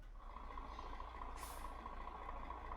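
A Mercedes Axor 3240 truck in Euro Truck Simulator 2 drives along winding roads with a faint, steady engine drone. A short hiss like an air brake sounds midway.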